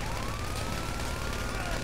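A police car siren in GTA 5 Online wails continuously in a rising and falling sweep over steady engine and road noise, loud and sustained with no pause.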